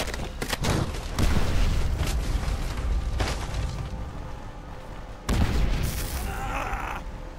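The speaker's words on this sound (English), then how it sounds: "Oh, that's a grenade." Grenade blasts and gunfire in the World War II shooter Call of Duty: World at War, with booming explosions and bursts of shots loud and close, and a heavy blast near the end over constant combat noise.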